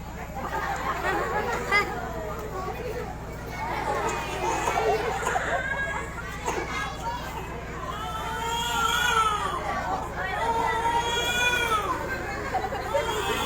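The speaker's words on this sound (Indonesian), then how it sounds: "Bayi ini menangis." A baby's wail in a school comedy drama staged by young pupils rises in repeated crying bursts amid children's chatter and background voices in a lively room.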